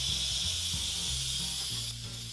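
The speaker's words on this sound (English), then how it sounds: "See, this releases the steam." Steam venting from an Instant Pot pressure cooker produces a loud, constant close hiss that eases slightly toward the end, with low murmuring underneath.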